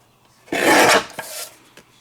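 A Tim Holtz deckle torn edge trimmer slicing through paper: one loud, close rasping cut of about half a second, then a few softer scraping sounds.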